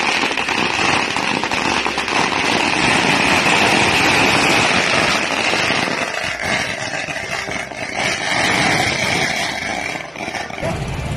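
Firecrackers set off by BJP supporters at an election victory celebration in Salem district, Tamil Nadu, fill the air with a loud, dense, unbroken crackle of bursts that runs throughout, with no voices heard.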